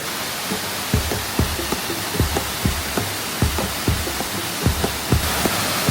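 Kroke E Dok waterfall in Saraburi, at its sixth tier: steady broadband rush of falling water fills the scene, with irregular low thuds and knocks scattered through it, no voices.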